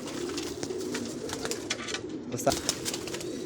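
A highflyer pigeon coos softly at close range amid low background hum, with a faint voice in the background.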